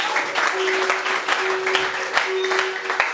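Congregation applauding for Jesus Christ at a church gathering, a steady dense wash of clapping throughout with a sustained tone and a few louder peaks.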